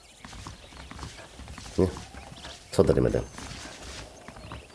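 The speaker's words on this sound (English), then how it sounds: "The horses are saddled up over here." Horse hooves clip-clopping in the video game Red Dead Redemption on PS5, two short bursts of thudding steps that stand out clearly, with a voice speaking alongside.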